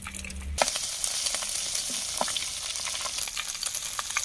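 Crushed ginger frying in coconut oil in a hot pan for Kerala style sardine curry, a steady close sizzle with light stirring clicks that starts abruptly after a brief quiet moment.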